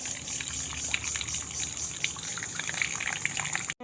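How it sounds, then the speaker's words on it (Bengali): Jute leaves being washed under running water, a faint continuous trickle and splash with occasional small drips, close by and alone. "তো চলো, আমার শাকটা ধোয়া কমপ্লিট করে নিই।"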